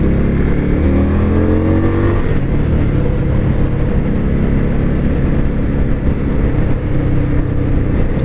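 A 2023 Indian Scout Bobber motorcycle engine revs up loudly and close, its pitch climbing in the first couple of seconds before settling into a steady, strong drone for the rest of the ride.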